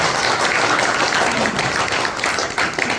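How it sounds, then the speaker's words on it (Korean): An audience at a lecture claps together in a dense, continuous round of applause, fairly loud and close, lasting the whole moment without pause. "다시 한번 큰 박수로."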